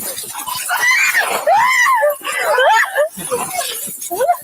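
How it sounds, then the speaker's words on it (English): Woman's high, wavering screams from a played video, several loud shrieking bursts rising and falling with brief breaks, close and dominant. "That was the most bitch-made scream I've ever heard."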